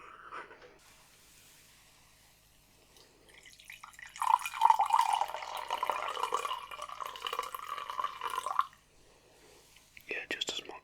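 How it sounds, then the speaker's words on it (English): Coffee poured into a cup in a quiet barbershop setting, a steady liquid stream running for several seconds after a soft whispering voice, then soft whispering again. "I'm gonna pour you a cup of coffee in there here first."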